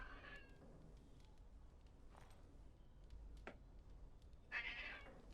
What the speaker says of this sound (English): My cat's just woken up and now she wants attention.